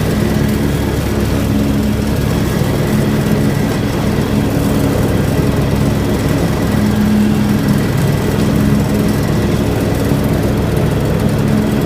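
A John Deere X724 4WS lawn tractor blowing cut grass into a windrow, its engine droning loud and close at steady high throttle with a constant low rumble and whirring blower the whole time.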